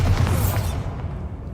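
A Bombarda blast spell explodes in a wizard video game, a loud, close, dense boom that rumbles briefly and then decays into a fading wash.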